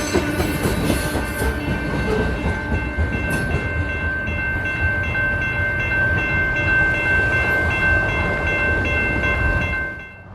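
A CSX freight train led by locomotive 3387 rolls past close by, a loud continuous rumble with wheel squeal and clicking rail joints that holds steady for about ten seconds, then begins to fade.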